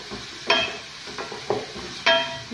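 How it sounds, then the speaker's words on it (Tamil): Green chilies, garlic cloves, ginger and curry leaves sautéing in a pan for masala sundal, a low steady sizzle broken by three sharp clinks of a utensil against the pan. "கொஞ்சம் வதங்கட்டணும்."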